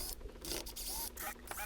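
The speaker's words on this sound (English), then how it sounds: "I might as well keep all these screws that I'm pulling out of this wood" Screws are pulled out of old teak wood from a swim platform, a short squeaky, grinding mechanical turning close up, heard alone.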